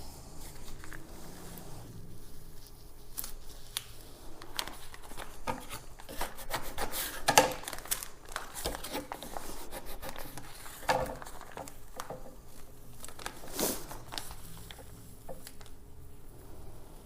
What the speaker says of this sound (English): Might help if I squeegee a little bit harder.